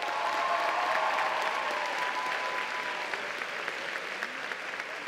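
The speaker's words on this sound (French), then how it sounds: "Je vous demande de l'applaudir bien fort" Steady applause from a cosplay contest audience at Polymanga 2017 greets a co-presenter joining the stage, a dense even wash of clapping that holds throughout and eases slightly toward the end.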